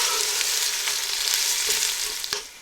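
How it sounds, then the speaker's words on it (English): Chopped onions fry in hot oil over low to medium heat for a Punjabi aloo gobhi, giving a steady, bright sizzle with occasional stirring clicks near the pan. "Now that the oil is nice and hot, I'm just going to turn my heat down to a low to medium heat so that they just cook the onions nicely."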